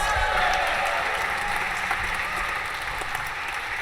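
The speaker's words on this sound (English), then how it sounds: "Round of applause." An audience at a business meeting claps steadily throughout, a dense wash of applause that holds at a constant level.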